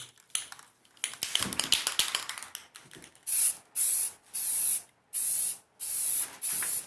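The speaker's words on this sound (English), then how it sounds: "spray a little bit just to make sure it's working and spraying freely" A rattling spray paint can gives way to six short, loud bursts of aerosol spray, evenly spaced, each a sharp hiss.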